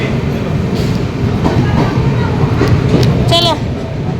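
A train stands at a railway station at dawn, with rumbling carriages and clattering rail noise, a brief squealing tone near the end, and people talking over the commotion.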